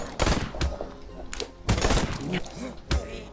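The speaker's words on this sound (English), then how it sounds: "That dude was shooting me!" Gunfire in the VR zombie game Out of Ammo: Death Drive, several sharp bursts and single shots scattered across the clip with thuds between them, mixed with excited voices.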